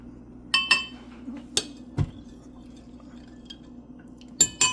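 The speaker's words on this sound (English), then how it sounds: "I'm going to grab a spoon. I'd rather have a spoon. So I'm just going to give this a brief stir." A spoon stirs a jello gummy mixture in a bowl, giving a few sharp, sparse clinks against the dish over a quiet background with a faint low hum.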